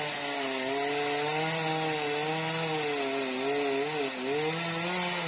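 A chainsaw cuts into a rain tree in a rural garden, its engine droning loudly and steadily, the pitch bending up and down as the blade bites through the trunk.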